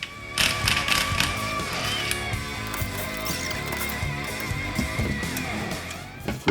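Lug nuts being removed from a car tire during a tire rotation, heard as ratcheting and metallic clicking with irregular clanks, close and moderately loud, with no speech.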